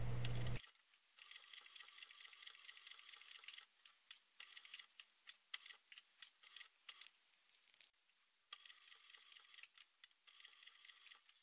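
A sewing machine runs in short bursts, topstitching around the edge of a fabric wallet, a fast soft rattling whir that starts and stops with brief pauses, quiet and close.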